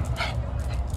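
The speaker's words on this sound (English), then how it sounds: "The little ones have got to bark." A small dog barks and whimpers in yippy bursts close by, with another dog nearby on a play date, over a busy, noisy background.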